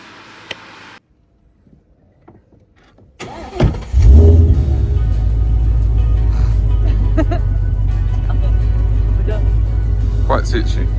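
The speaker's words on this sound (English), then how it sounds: "Give it a rev then." A car engine cranks and catches, then runs loud and close with a steady, throaty rumble and slight rises in revs, after a few quiet moments with faint voices.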